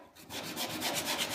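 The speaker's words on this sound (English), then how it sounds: "And then I'll just rub across there a little bit, taking the sharp edge off of the joint." A sanding block rubs across a glued wooden baseboard corner joint, knocking off the sharp edge. It makes a soft, quiet, rhythmic scraping of short back-and-forth strokes with no voices.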